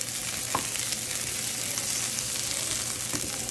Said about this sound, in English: Onions should always be the first thing that goes in because they're going to get nice and soft